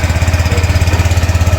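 A fresh, nearly new Honda Click scooter engine runs steadily close by, a loud, even low-pitched putter with a fast regular pulse and no voices over it.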